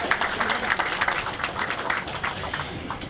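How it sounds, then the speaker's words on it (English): A crowd at a St. Patrick's Day parade in Newark applauds steadily for several seconds, a dense patter of many hands clapping at once, loud and continuous. "let's give a round of applause to all the firefighters and the police officers"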